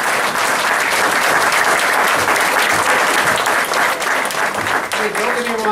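Loud, sustained applause from a dinner crowd at a political Lincoln Day Dinner, thick and continuous clapping that fills the space from start to finish, with a murmur of voices rising beneath it near the end.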